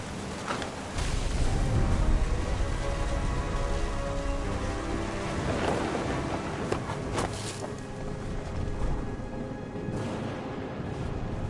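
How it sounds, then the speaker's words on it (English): Steady heavy rain with deep, rolling thunder rumbles during a storm in the video game What Remains of Edith Finch. The downpour is loud and continuous, with a few sharper cracks and booms rising from it. "The thunder sounded much too close and full of angry power."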